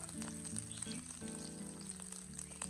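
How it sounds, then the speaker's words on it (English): Sausages stir-fry in cooking oil in a pan with a close, lively sizzle and crackle that stays dense and steady throughout, with no voices over it. "I stir-fry the sausages until they start to brown slightly and turn golden"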